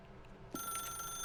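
A telephone in The Stanley Parable video game starts ringing partway through, a bright electronic trill that rises suddenly over a quiet room tone and keeps ringing steadily.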